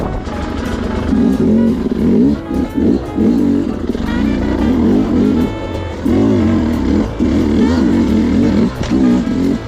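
A 2025 Sherco SE300 Factory two-stroke motorcycle climbs a trail, its engine loud and close, revving in surges with brief drops between bursts of throttle.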